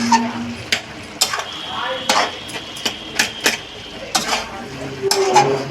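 A spoon clanks and scrapes in a pan while purple cabbage with boiled potatoes, ghee and garam masala is stirred and mashed, sharp repeated metallic knocks over a soft sizzle, close and irregular.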